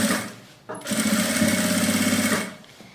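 A sewing machine runs steadily for about two seconds, stitching the side seam of a fabric toiletry bag, with a rapid, even mechanical whir close by and brief pauses before and after.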